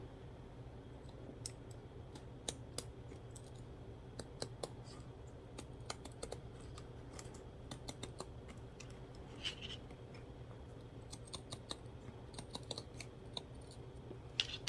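Scissors snip through plastic canvas for a crochet pouch, giving a run of faint, sharp clicks at uneven intervals over a quiet background, with no talking.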